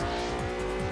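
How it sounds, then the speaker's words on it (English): In the racing game Test Drive Unlimited, a car drifts through a corner with a steady, loud tire squeal over a droning engine. The sound is continuous and close, with no voices. "150 drift points around that corner"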